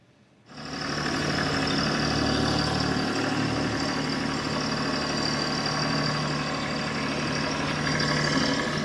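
A TYM T264 tractor engine with a backhoe attachment catches after a brief quiet moment, then idles in a steady, loud, close diesel rumble that holds evenly to the end.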